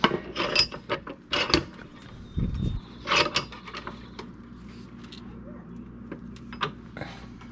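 Repeated cranking of a tiller mechanism during a motor swap, giving loud ratcheting, clanking bursts in an irregular rhythm close by, with quieter mechanical rattles between them.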